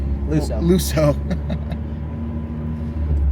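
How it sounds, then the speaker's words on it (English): A 2017 Fiat 124 Spider Lusso drives along with a steady low engine and road rumble, heard from inside the car while people talk over it. "we are taking a drive in the 124 Spider Lusso"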